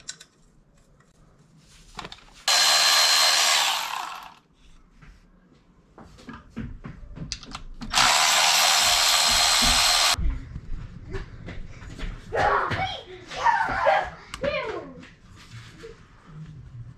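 A power tool spins out the stator cover bolts on a 1996 Suzuki 800 Intruder motorcycle in two loud bursts of a few seconds each, separated by quieter clinking and handling of parts.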